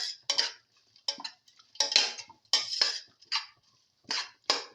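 A spoon scrapes and clanks against a pan while a lentil and tomato mixture is sautéed and stirred, in about a dozen sharp, irregular bursts close by with quiet gaps between.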